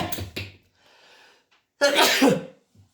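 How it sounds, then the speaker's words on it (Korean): A teacher sneezes twice, with a short sharp sneeze at the start and a louder, fuller sneeze about a second and a half later, close by with quiet breathing between. "선생님 재채기 2번 했다."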